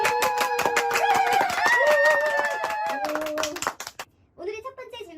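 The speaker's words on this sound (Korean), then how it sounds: "박수 한번 쳐" Rhythmic clapping from a small group plays over a bright electronic melody jingle at the opening of a Korean political talk show. It ends abruptly and is followed by a short snippet of voices.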